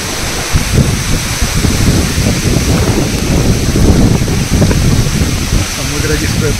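Strong wind buffets the microphone at the Old Seven Mile Bridge in the Florida Keys, with open sea surging below, a steady loud roar with gusty low rumbles throughout.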